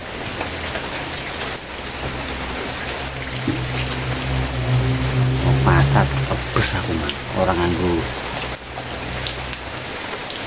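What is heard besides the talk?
rain falling, thunderstorm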